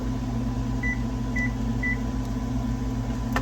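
A kitchen timer beeps three times, short and evenly spaced, over a steady low hum and background noise while peach scrap jelly cooks at a boil on a home stove.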